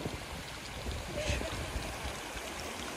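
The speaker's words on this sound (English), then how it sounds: "enjoy the sound of the water." Quiet running water from a small mountain stream in Wales, a soft steady babble with faint gurgles, heard alone.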